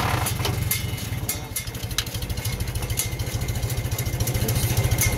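Farmall M tractor with an M&W 9-speed transmission chuffs along in 4 high at about 3.5 mph, its engine thumping in a steady, rapid rhythm, loud and close throughout with clattery mechanical overtones.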